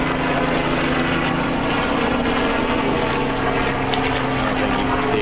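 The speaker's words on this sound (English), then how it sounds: "Helicopter flying overhead." A steady, loud engine and rotor drone fills the air throughout, like a helicopter passing overhead, with constant low rumble and no pauses.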